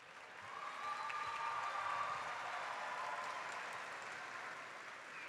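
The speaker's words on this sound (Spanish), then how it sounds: "Un fuerte aplauso." An audience at a university event gives sustained applause that rises quickly and then holds steady as a dense wash of clapping. It sounds distant and fairly faint.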